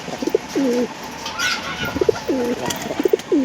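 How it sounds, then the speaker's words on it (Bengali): Pigeons coo in repeated rolling phrases, close and clear, about three calls in a few seconds with a brief flutter between. "পায়রাটা নিচে নেমে গেল।"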